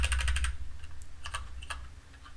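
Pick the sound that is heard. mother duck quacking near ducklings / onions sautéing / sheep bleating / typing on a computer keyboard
typing on a computer keyboard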